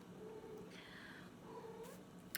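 A pet cat gives two soft, drawn-out meows over a low, steady purr, heard close but faint.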